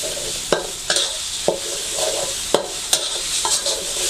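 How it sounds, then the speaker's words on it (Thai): Thai red curry paste with yellow turmeric is stir-fried in a hot pan for a village-chicken curry. A bright, steady sizzle runs throughout, punctuated by about seven distinct scraping strokes of the spatula at a loose, regular pace. "ผัดให้หอมเลย ตอนผัดพริกแกงนะคะ"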